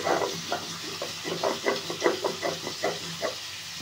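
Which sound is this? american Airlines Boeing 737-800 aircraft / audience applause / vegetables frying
vegetables frying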